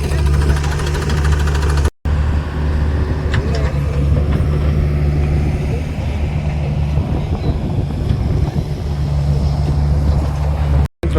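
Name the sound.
tractor engine running while being loaded with salt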